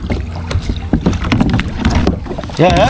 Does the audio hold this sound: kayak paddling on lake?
yes